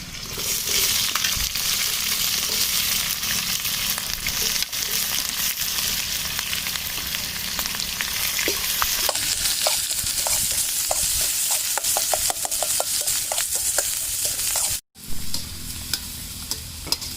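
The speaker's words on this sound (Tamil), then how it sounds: "நறுக்கின வெங்காயத்தை இதில் போட போகிறோம்." Steady crackling sizzle of chopped onions frying in hot oil with curry leaves, with occasional scraping and stirring clicks, close and continuous throughout.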